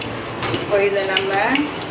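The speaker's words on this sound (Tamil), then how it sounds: "அதில் நான் இப்போது க்ரீன் சில்லி அண்ட் டொமேட்டோஸ் ரெண்டுமே போட்டு அது நல்லா ஃப்ரை பண்ணிகிட்ருக்கேன்" Onions, green chillies and tomatoes frying in a pan, a loud close sizzle with stirring scrapes across the whole short stretch.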